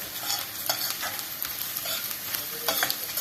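Tomato paste frying in a pan with leeks, crackling and sizzling steadily up close while a spoon scrapes and stirs in short strokes, with no talking.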